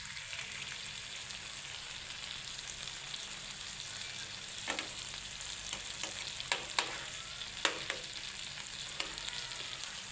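Rui fish paturi parcels fry gently in a pan, a soft steady sizzle with a few scattered sharp crackles and light taps as the parcels are turned over, no voices.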